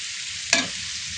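A vegetable bhaji sizzling and frying in a pan at home, a steady hiss with one brief sharp stir or clatter in the middle, with no voices.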